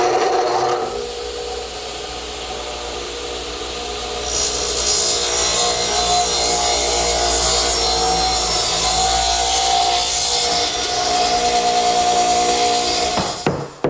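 A table saw rips through a wood piece held against the rip fence, a loud steady whine with a rasping cut for several seconds before the blade winds down.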